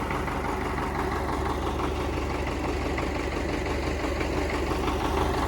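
An MTZ 892 tractor engine runs at a steady idle throughout, a continuous low diesel rumble with a faint knocking texture, close and unbroken.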